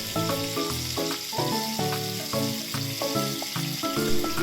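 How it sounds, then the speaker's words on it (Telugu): Cooked dal, made with red chilli pickle, is stirred into a sizzling tempering in a pan. A steady, crackling fry-sizzle continues throughout with no talking. "ఇప్పుడు మనం ముందుగా రెడీ చేసుకున్న పప్పుని తాలింపులో వేసుకొని బాగా కలుపుకోండి"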